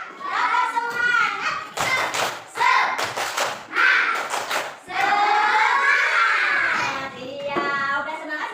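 Children perform the rhythmic "tepuk semangat" clap in a classroom, with bursts of clapping and thumps between stretches of young voices chanting along.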